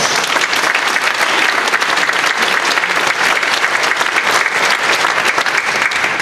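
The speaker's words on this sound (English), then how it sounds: "please give our judges and evaluators a big round of applause" Audience applause for the judges and evaluators at the Centre Sings benefit concert: a dense, loud, steady roar of many clapping hands that fills the whole stretch without a break.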